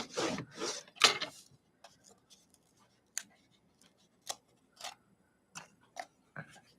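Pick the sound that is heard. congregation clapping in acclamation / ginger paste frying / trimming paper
trimming paper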